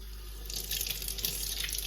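A kitchen tap runs into a sink as lemon is rinsed quickly, a faint, steady splashing stream with light fluctuations and no voices.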